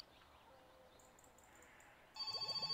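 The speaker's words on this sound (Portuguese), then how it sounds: "Ei, telefone de novo," A telephone in the video game My Summer Car starts ringing near the end, a quick trilling electronic bell over a quiet, low background with faint ambient sounds before it.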